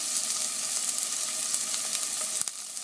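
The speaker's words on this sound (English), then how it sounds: "I'll go ahead and put my chilies in there. My red chili" Red chilies hit hot oil with onions and cumin seed, giving a steady close sizzle and crackle with a few sharp pops near the end and no talking.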